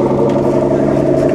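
Aston Martin engine revving at a concours d'elegance car show, a steady loud drone with rich harmonic tones running through the whole short stretch, close by, with crowd noise underneath.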